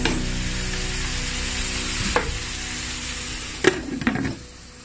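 Bean sprouts and mixed vegetables sizzle steadily in a hot pan, a continuous frying hiss broken near the end by a few sharp clatters of a utensil stirring against the pan.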